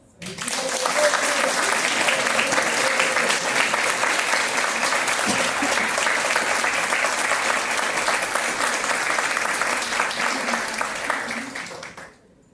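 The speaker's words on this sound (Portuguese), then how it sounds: "palmas para o Mujica" At a union event, an audience applauds for Mujica in a sustained, even ovation of many hands that swells quickly, holds at full strength for about eleven seconds, then stops abruptly.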